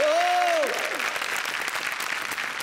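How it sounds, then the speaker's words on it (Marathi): Loud, sustained applause fills a Marathi TV comedy show stage as guests are welcomed, opening with a brief rising-and-falling electronic sound effect before the clapping carries on alone. "जोरदार टाळ्या झाल्या पाहिजे"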